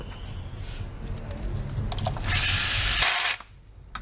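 A power tool tightening screws on an IMAX motor wheel during a bearing replacement, a close mechanical whir building to a loud sustained buzz before stopping abruptly.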